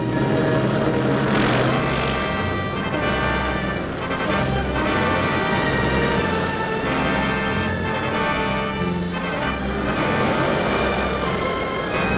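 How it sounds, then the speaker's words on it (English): Squadrons of propeller warplanes fitted with long-range auxiliary fuel tanks head out toward the air front over Western Europe, a loud, steady, dense engine drone that fills the whole stretch without any talk. "These squadrons are leaving for the front, the great air front over Western Europe."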